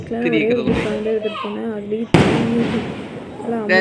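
A Diwali firecracker bursts with one sharp, loud crack midway, set against ongoing family chatter and voices before and after.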